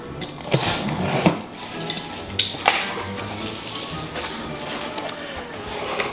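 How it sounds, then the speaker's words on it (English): A knife slicing open a cardboard subscription box makes a steady, close rasp of scraping and tearing, broken by several sharp clicks and snaps as the blade catches the tape and flaps. "I have a nicer knife this time around to cut"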